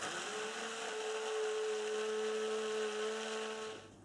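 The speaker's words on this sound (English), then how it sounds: "I'm going to use the stick blender." A stick blender whirs at a steady pitch for several seconds mixing cold process soap, then cuts off abruptly near the end.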